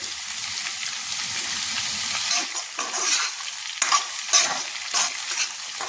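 Chickpeas, peas, potato and cauliflower fry and sizzle in a pan as they are stirred, a steady close crackle with scraping stir strokes breaking through over six seconds; no talking.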